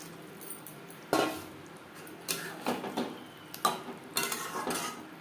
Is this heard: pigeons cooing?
no